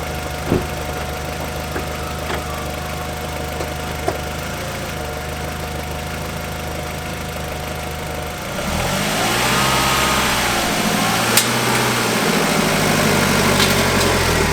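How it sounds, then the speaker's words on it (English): An Audi TT engine restarts and idles after an oil change, first a faint steady hum, then a louder rough idle with small fluctuations from about halfway, running continuously and close by with no talk. "Now we can start the car back up, leave it run for 20 minutes"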